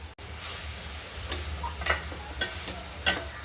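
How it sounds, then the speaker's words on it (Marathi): Carrots being sautéed in ghee for traditional carrot halwa, with a soft continuous sizzle close by. A spatula scrapes and stirs in several distinct strokes, and no voices can be heard. "गाजर छान मऊ होईपर्यंत तुपामध्ये परतून घ्यायचे"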